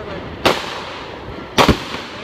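Two sharp, loud firework bursts boom across Ford Lake seen from a cottage deck, about a second apart, the second with a brief crackling double report, over quiet ambient background.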